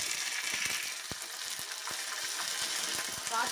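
Ginger garlic paste dropped into hot oil already holding mustard seeds, urad dal and dried red chillies, giving a steady sizzle with scattered pops and crackles, close and fairly quiet.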